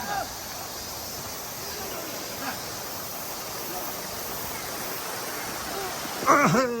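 Steady broadband rush of river water flowing along a rafting river in Okutama, Japan, heard near and continuous throughout, with faint voices and a brief clear voice near the end.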